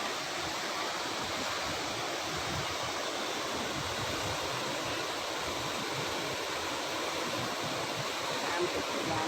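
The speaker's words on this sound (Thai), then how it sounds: "น้ำตกนี่คือ" A waterfall roars as a steady, dense rush of falling water, loud and continuous from start to finish with no breaks.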